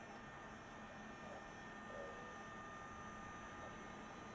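A DC-8 jet engine starts up in the X-Plane 11 flight simulator, heard as a faint, steady whine and rush that holds level throughout.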